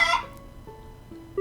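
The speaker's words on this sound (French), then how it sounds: "J'espère que Daniel n'a pas essayé d'arroser les poulets au lieu des plantes" Chickens in the video game Trails in the Sky the 3rd give a short burst of clucks, followed by a few faint, scattered cluck notes in an otherwise quiet game scene.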